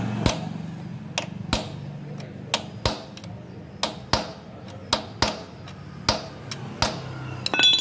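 A hammer strikes the middle of a metal bike part in about a dozen sharp, ringing blows at a steady, slightly uneven pace, loud and close with no speech.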